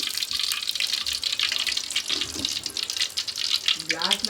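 Water hitting a hot pan in a home kitchen sizzles and spits with a continuous hiss and scattered sharp crackles, close and fairly loud, while someone talks over it.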